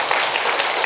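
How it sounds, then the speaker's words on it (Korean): A lecture-hall audience at an invited talk bursts into brief, dense applause, a short burst of many hands clapping together. "물에게 박수 한번 보냅시다."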